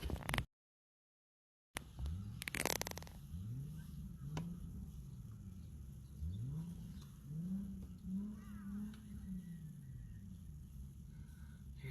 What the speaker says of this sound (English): Here's somebody revving their engine